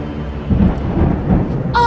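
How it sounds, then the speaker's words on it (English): A low rumble of thunder rolls for over a second, heavy and close, then gives way to a brief higher-pitched sound at the end. "Was that thunder?"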